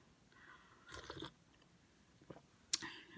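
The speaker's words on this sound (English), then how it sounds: "I'm going to eat my Mexican bread." Mexican sweet bread being eaten, with a few soft close-up bites and crunchy chews in separate bursts over a quiet background, the last bite sharper and louder.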